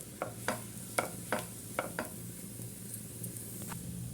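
A semolina and coconut breakfast cake fries in a pan with coconut oil, a faint steady sizzle broken by several light scraping and tapping sounds of a utensil.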